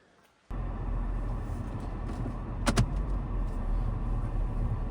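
A car interior fills with steady engine and road rumble as the vehicle starts moving off, with a brief rattle or click partway through and no talking.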